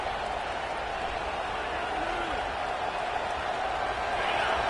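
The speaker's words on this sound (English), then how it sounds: "And the crowd coming to life here, trying to help this defense down in the red zone." Football stadium crowd roars during a game against Auburn as the home defense holds in the red zone, a loud, continuous wash of cheering and noise with no breaks.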